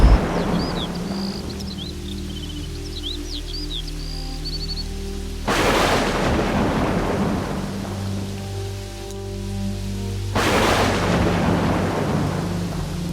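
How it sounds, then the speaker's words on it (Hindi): Steady rain on a cold night, pattering continuously, broken by two loud, close thunder cracks that rumble and fade, with faint bird-like chirps early on and no speech. "बारिश तो रात से हो रही है।"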